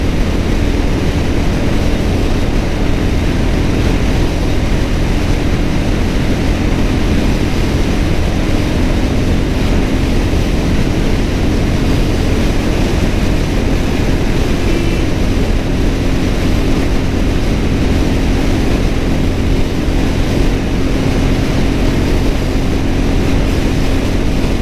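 A vehicle engine cruises in fifth gear at speed, a loud, unbroken droning hum with a faint steady tone and a rushing wash of road and wind noise, with no talking.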